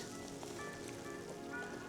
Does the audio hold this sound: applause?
no